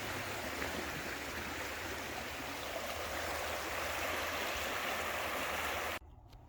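River in Ottery St Mary, Devon, flowing steadily with a dense, even rushing wash of water, close and continuous, cutting off abruptly near the end.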